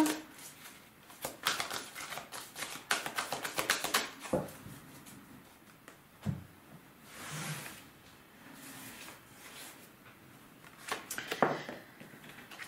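Tarot cards drawn from a deck in a French reading, giving quick papery slaps and flicks in bursts, then softer shuffling and a few scattered card snaps, close and fairly quiet.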